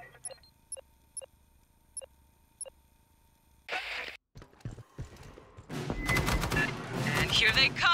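Gunfire in the PS5 game Aliens: Fireteam Elite, opening with a few sparse clicks before a sharp burst, then turning into a loud, dense, continuous volley of shots mixed with game effects.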